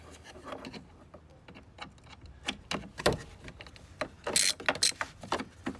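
Torx T30 bolts come out of a Jeep JL Wrangler fender with ratcheting clicks and metallic ticks, irregular and close, growing busier toward the end.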